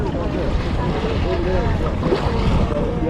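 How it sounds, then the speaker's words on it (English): Sea waves wash around a lighthouse in open water off Tybee Island, Georgia, heard from a kayak at sea, with steady surf and heavy wind buffeting the microphone throughout and faint voices underneath. "we've got some pretty good sized waves coming around the lighthouse here"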